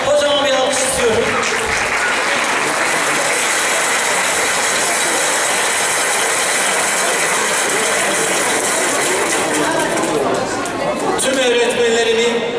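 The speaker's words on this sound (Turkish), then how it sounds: "Onlara kocaman bir alkış istiyorum" Applause for retired teachers at a school district teachers' opening ceremony, a long, loud wash of clapping from a large crowd that holds steady for about ten seconds, with a voice and crowd murmur around its edges.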